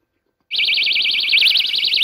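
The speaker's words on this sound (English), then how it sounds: "Rape alarm. My dad makes me carry it." A personal rape alarm goes off after a moment of silence, a loud piercing electronic whoop that warbles rapidly up and down without pause.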